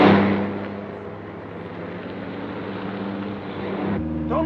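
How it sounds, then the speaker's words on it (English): A car engine drones steadily during a chase, a constant low hum with a sharp sound near the end and a brief change in tone afterward, no voices. "There's a car following us."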